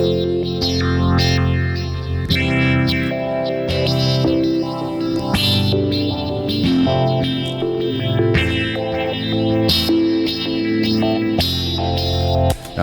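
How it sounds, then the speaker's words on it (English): Music drenched in heavy, spacious reverb, with long washy tails blurring the notes together; steady and loud throughout, no voices. "I like that heaven reverb."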